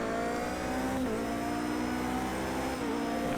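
Race car engine in an endurance racing game at Indianapolis, a steady loud drone that climbs in pitch as the car accelerates and dips briefly with a gear change around the one-second mark, behind an LMP1 car.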